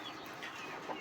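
About forty hens and a large rooster in a coop in Andijan, a dense, faint wash of overlapping clucking and rustling with no single call standing out.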